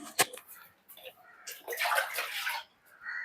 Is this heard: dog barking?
no